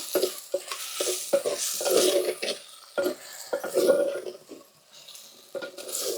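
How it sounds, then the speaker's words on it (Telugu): Spoon scraping and clinking in a pot as salt, chilli powder and turmeric are stirred in, with a few sizzling spells; a run of separate stirring strokes, fairly close and with no talk. "ఇప్పుడైతే మొత్తం ఒకసారి తిప్పేసుకుందాము"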